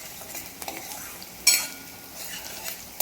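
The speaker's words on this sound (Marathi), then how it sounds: "इथे कांदा चांगला तेलामध्ये परतवून घेत आहे, त्याला लालसर कलर येईपर्यंत चांगला परतवून घ्यायचा।" Onion sautéing in oil in a pan until reddish, a soft steady sizzle broken by spatula stirring and scraping, with one sharp metallic clink partway through.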